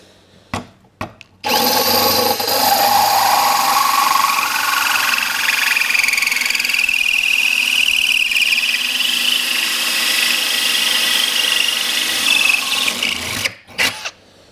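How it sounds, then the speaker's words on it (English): A loud, steady grinding whine of a diamond hole saw cutting through hard ceramic floor tile runs continuously for over ten seconds, starting and stopping abruptly. "Diamond drilling extremely hard floor tile."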